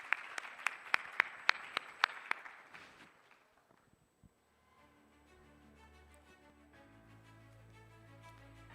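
An audience at an international clinical studies conference applauds a panel and its moderator, a burst of sharp, close claps that thins out and fades within a few seconds. A quieter tonal sound follows.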